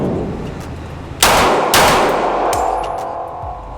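Two loud, close Glock 17 pistol shots fired in quick succession at a target, each a sharp crack with a ringing tail, no talking.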